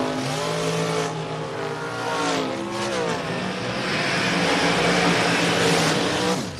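Drag racing cars, including a dragster, launch down the strip at the Mutt and Jeff Fall Brawl, their engines screaming loud and close with rising, shifting pitch sweeps as they accelerate away.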